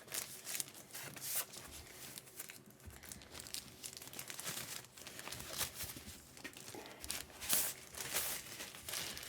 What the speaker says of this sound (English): let's unwrap this first